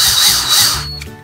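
A power drill spinning wire into fishing lure line ties, a loud, close, high whirring whine that holds steady for about a second, then cuts off with a short mechanical rattle.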